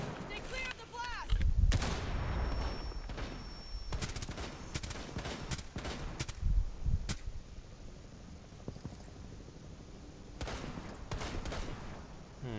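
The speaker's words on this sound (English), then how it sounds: "do you want me to break the wall with ash grenade?" Ash's breaching grenade blowing a wall in Rainbow Six Siege: sharp explosive cracks and booming blasts come in clusters, with a loud burst early on and scattered gunfire-like impacts afterward, at fairly low overall volume.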